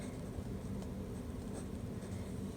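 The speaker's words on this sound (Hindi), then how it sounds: "तो अब हम इसको लिख देते हैं" A marker squeaks and scratches steadily across a board while a maths answer is written out, a continuous close rubbing sound without breaks.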